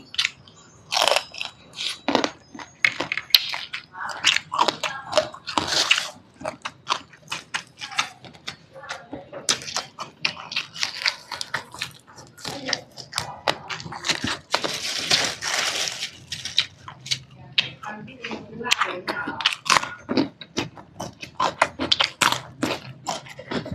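Crunchy chewing and smacking bites of spicy Thai blue crab papaya salad, rapid close-up crunches repeating throughout, with brief murmurs between mouthfuls.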